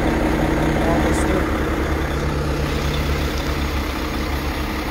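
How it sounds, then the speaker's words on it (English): A 2015 Mack CXU613 truck engine idles steadily with a low, even rumble close by, a faint voice speaking over it. "The engine working really smooth."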